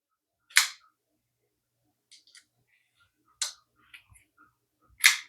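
A large-bladed Ioko D2 folding knife flips open on its flipper tab, giving three sharp, close snaps spaced a few seconds apart. Faint small clicks of handling fall between them.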